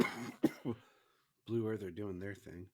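A few short, sharp coughs come in quick succession, followed by a pause and then a person speaking.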